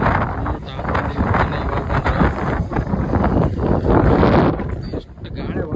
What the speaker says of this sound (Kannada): ಎಷ್ಟು ಗಾಳಿ ಹೊಡ್ಸಾಡ್ತವ